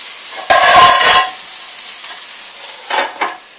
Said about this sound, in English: they're going to go back into the pan for another 5 minutes